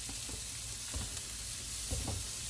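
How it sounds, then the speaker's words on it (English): Vegetables stir frying in olive oil over high heat, a steady close sizzle with a few louder bursts of crackle as the food is tossed and stirred, no voices. "You have to keep the heat high in order to stir fry your food."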